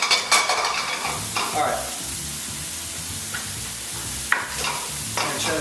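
Pancetta sizzles loudly in a hot pan, with a steady frying hiss broken by scraping stirs and a few clatters of the utensil against the pan, while someone speaks briefly.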